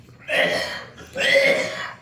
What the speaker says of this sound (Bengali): প্রচণ্ড কাশি